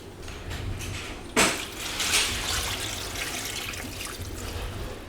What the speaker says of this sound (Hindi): मैं इसमें डालती हूँ वो पानी